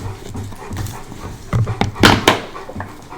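A dog pants and whimpers close by, with soft rhythmic breaths and a few louder whining bursts, while people talk faintly nearby.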